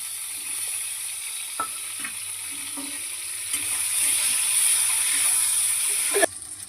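Salted, turmeric-coated eggplant fries in hot oil with nigella seeds and dried chilli, giving a loud, steady sizzle with occasional stirring scrapes. The hiss swells midway, and a clatter of the spoon comes near the end.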